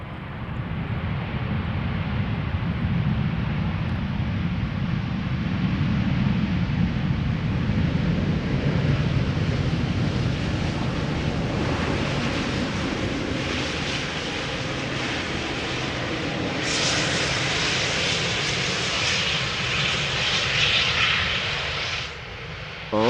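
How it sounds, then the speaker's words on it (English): A United Airlines airliner arriving at Schiphol from Washington passes close by with a loud, sustained jet engine roar that slowly shifts in tone, then brightens into a hissing whine before fading near the end. "United Airlines flight 946 arriving from Washington."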